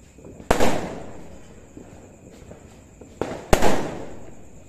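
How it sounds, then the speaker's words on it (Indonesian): Fireworks set off in a quiet housing estate on New Year's Eve give two sharp, loud bangs a few seconds apart, each followed by a crackling, fading tail with no talk over them. "Saya nyalakan kembang api tadi."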